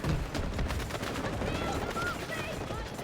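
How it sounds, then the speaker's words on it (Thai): Turret gunfire in the video game Delta Force: rapid, continuous bursts of shots that hold steady and loud for the whole stretch, with a faint voice underneath. "มันเอามันเอาป้อมไปนี่ยิงเราน่ะ"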